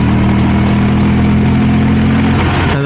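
Moto Guzzi V7 Stone motorcycle engine running loud and close with a steady low throb, then changing pitch near the end as the revs shift, with no talking.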